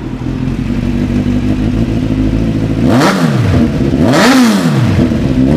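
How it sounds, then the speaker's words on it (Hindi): Kawasaki Z900 motorcycle fitted with an Akrapovic full-system exhaust idles with a deep, loud burble, then is revved twice in quick rising-and-falling blips, close by with no talk. "अरे बाप रे, एक्रोपॉविक ओरिजिनल एग्जॉस्ट लगा है, फुल सिस्टम।"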